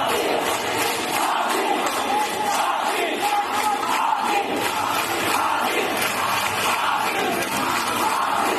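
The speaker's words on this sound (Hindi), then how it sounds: "दरअसल ढाका में हिंसा के बीच भारत विरोध में नारे लगाए जा रहे हैं।" A large crowd chants slogans against India in Dhaka amid violence at a funeral, a dense, continuous roar of many voices filling the whole stretch at steady loudness.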